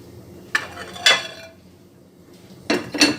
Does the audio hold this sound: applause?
no